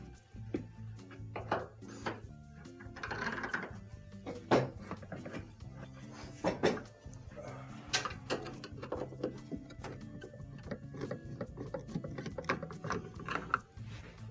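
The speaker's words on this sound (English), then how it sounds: "Next, we have multiple Phillips screws in these holes. They'll have to be taken out in order to remove the console." Phillips screws being backed out of a dispenser console, with a run of small mechanical clicks, ratcheting ticks and scraping taps, close and fairly quiet, and sharper knocks as parts are handled.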